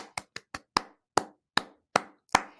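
Hand claps tapping out a rhythm for a music lesson listen-and-repeat exercise, nine sharp claps alone in an uneven pattern of short and longer gaps.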